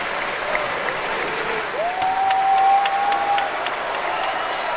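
Steady applause from an audience welcoming a choir, a warm sustained round of clapping throughout, with a faint whistle rising briefly through the middle.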